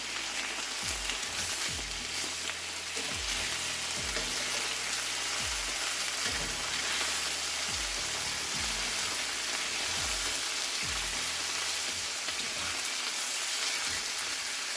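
Pork chops sear in a hot pan with a steady, bright sizzle and crackle, punctuated by a few low thumps of the meat being moved.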